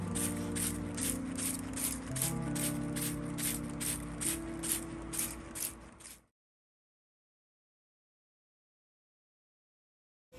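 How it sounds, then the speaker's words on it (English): A spray bottle hisses in a steady run of about a dozen quick pumps of foliar spray onto pepper plant leaves over a low hum, then everything falls silent. "then spray the leaves."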